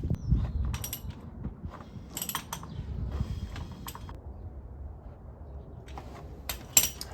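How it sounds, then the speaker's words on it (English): A ratchet turns the cam gear on a Honda EK Hatch engine, with bursts of sharp, close clicking and rattling separated by quieter creaks and handling noise. "we're gonna need to turn the cam gear another 90 degrees counterclockwise"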